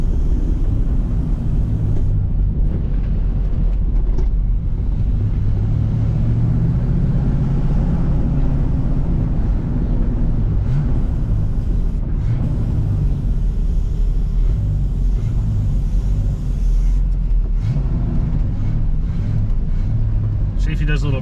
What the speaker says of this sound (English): Oh yeah, she's definitely rumbling and making noises, that's for sure.